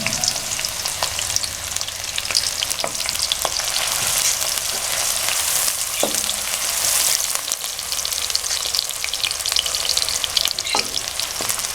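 Chopped onions fry in about a cup of oil in a kadai, giving a loud, steady sizzle and crackle with occasional stirring scrapes, continuous and close.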